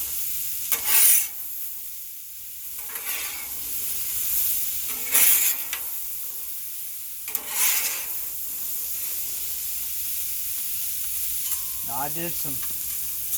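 Potatoes fry in oil on a Blackstone 36-inch propane griddle, giving a steady sizzle throughout with periodic louder scraping strokes of a spatula, and a brief spoken phrase near the start.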